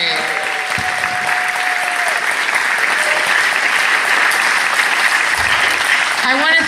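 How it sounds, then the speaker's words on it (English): Loud, sustained audience applause after a live show at a historic theater, a thick even wash of clapping with brief vocal tones and cheers rising over it near the end. "Can we have a round of applause of how much you enjoyed the show?"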